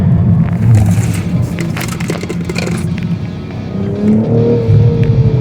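A BMW engine revs and pulls away loudly nearby from a stop at a driving event, with a rough, rumbling roar and a rising tone toward the end.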